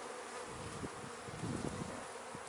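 A dense, steady hum of many honeybees spills out of an opened package during hive installation, close and continuous with small swells in intensity.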